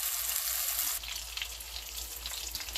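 Pork chunks searing in a hot pan for a pulled pork dish, a continuous close sizzle and crackle, quiet and steady with no voices.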